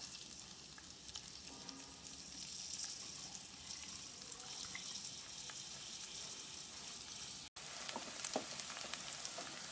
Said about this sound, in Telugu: ఇప్పుడు ఉల్లిపాయలు ఫ్రై అవుతున్నాయి కదా, ఆనియన్స్ ఫ్రై అవుతుంటుంది